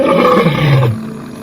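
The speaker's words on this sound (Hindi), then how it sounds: "अर्थात सिंह की आवाज निकाली।" A single loud, deep lion roar swells and rumbles for about a second before cutting off, leaving a faint low hum.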